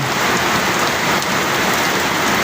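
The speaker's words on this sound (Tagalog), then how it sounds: "ang lakas ng ulan ngayon dito guys. Wala nang hinto." Relentless heavy rain during a monsoon downpour, a thick, even roar of countless drops striking nearby surfaces, constant and loud with no talking.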